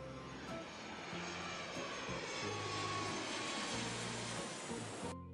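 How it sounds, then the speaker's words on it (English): Steady roar of an aeroplane engine, broad and continuous throughout, with low droning tones shifting underneath before cutting off at the end. "A for aeroplane."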